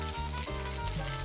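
Greek meatballs frying in olive oil in a pan, a steady close sizzle and crackle throughout with no talking.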